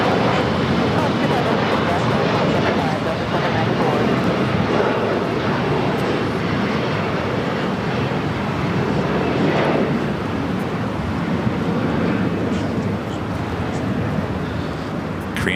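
A Delta Airlines A330neo jet taking off on a south-side runway at LAX, a loud continuous broadband engine roar holding steady throughout, with a voice talking over it.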